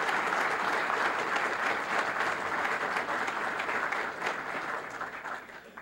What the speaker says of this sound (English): let's give them all a round of applause and thank them for their service